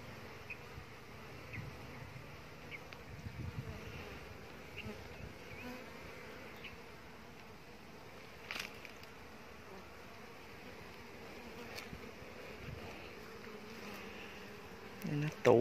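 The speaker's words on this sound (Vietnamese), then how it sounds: "Tổ này có ong đực hết cả nhà." Bees buzzing around a hive nest on an electric pole, a soft continuous insect drone heard at a distance, with occasional faint knocks and rustles.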